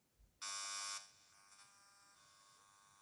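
An RF meter turns a cordless telephone's radiation into sound: a sudden loud, harsh electronic buzz lasting about half a second, followed by a fainter lingering hum.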